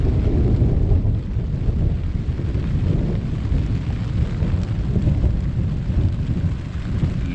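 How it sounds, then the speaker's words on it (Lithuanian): Steady heavy rain pours down outdoors during a storm, a dense, continuous hiss and patter close to the microphone with low rumbling wind noise and no voices. "Lyja."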